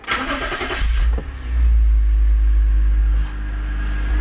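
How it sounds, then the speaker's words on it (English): A car engine cranks and catches in the first second and a half, then settles into a steady, loud idle close by, with a brief dip in level near the end. "we need to have the engine running"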